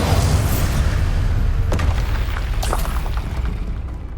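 A Bombarda blasting spell goes off in Hogwarts Legacy as a loud, deep rumbling explosion that fills the whole clip, fading slowly with a few brief crackles layered on top.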